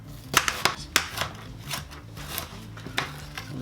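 A kitchen knife chops an onion finely on a cutting board while making burgers, giving a quick irregular series of crisp, close taps and slicing crunches.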